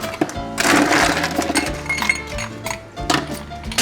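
Ice rattles and clinks against a glass being chilled for a pisco sour, a close, busy run of bright knocks and tinkling with steady shaking.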